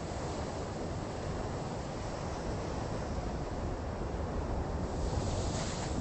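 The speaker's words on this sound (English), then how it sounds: "As soon as the waves hit this rock, it's going to be an awesome screenshot." Big ocean waves crash against a rock at sunrise, a loud, continuous wash of surf and spray with wind buffeting the microphone and no voices.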